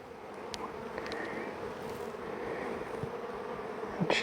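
Honeybees buzz softly during a hive inspection early in swarm season, a steady, fairly faint hum of many insects with occasional closer passes and no talking.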